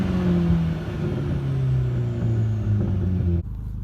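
A 1.8T Audi A4 B6 Quattro with a straight-pipe exhaust and burble tune idles and climbs in a steady, droning rumble, then cuts off sharply near the end.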